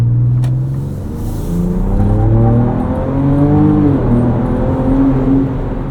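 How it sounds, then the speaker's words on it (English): A 2024 Ford Ranger Raptor with the Ford Performance tune accelerates at wide-open throttle, its engine note rising steadily in pitch and loudness, close and prominent with no talk. "Now at half throttle and wide open throttle, you notice more power."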